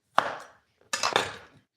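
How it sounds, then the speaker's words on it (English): Two knife chops strike a cutting board during prep for turkey lettuce wraps: a single sharp hit, a short pause, then a quick double chop, close and clear with no talk. "Let's start chopping."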